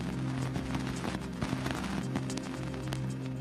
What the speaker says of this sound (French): Voici le bruit des poussières heurtant l'antenne de l'engin.